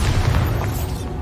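A Bombarda explosion spell goes off in Hogwarts Legacy, a loud, dense boom with a rumbling low end that holds for about a second before thinning out.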